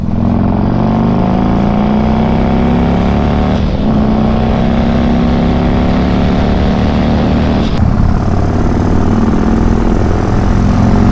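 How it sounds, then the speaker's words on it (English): A turbocharged Harley Davidson motorcycle engine, part of a 200 hp build, revs loud and close in one unbroken run, its pitch climbing steadily with a couple of brief surges and no voices. "Man, that turbo sounds good."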